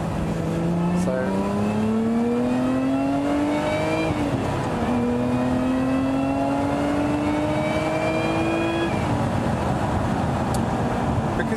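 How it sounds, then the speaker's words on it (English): A Lotus Emira in sport mode accelerates through repeated gear pulls, the engine note climbing steadily with a high supercharger whine above it, heard from inside the car over constant road noise. "because it's got more supercharger whine,"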